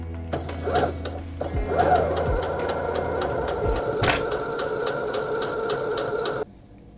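A freshly rethreaded sewing machine runs in a fast, even mechanical whir with rhythmic needle clicks, close and loud, before abruptly stopping just before the end.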